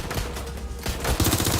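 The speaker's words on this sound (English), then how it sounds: "Shots fired." Gunfire in the video game Watch Dogs Legion, a short rapid automatic burst of shots, loud and close, growing denser toward the end.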